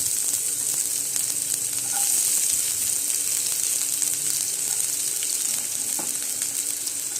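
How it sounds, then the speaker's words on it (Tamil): Onions frying in hot oil, a bright continuous sizzle holding at a steady level, with a faint scrape or two underneath. "இப்போ ஆனியன் நம்ம சேர்த்துக்கலாம்."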